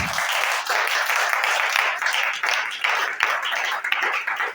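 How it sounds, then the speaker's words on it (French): A church congregation applauds, a dense, steady wash of many hands clapping together that carries on for several seconds with slight swells and dips, close and lively, with no voices standing out. "Acclamez"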